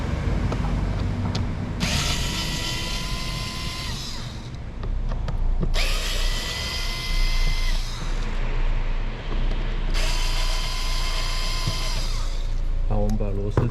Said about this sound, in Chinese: 好，我们把螺丝转松了。